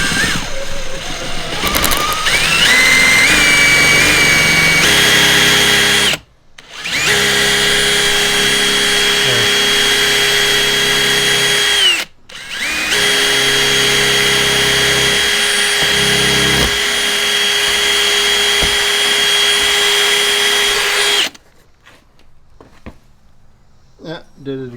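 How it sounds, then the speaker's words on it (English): A power drill whines loudly for long stretches while drilling a fender into a Sea-Doo watercraft, stopping briefly twice before starting again, then cuts out, leaving quiet background noise. "I think that's how I'm going to drill it right there."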